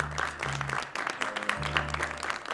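A church congregation applauds steadily with dense continuous clapping, with music or a sustained tone underneath and no cheering voices clearly standing out.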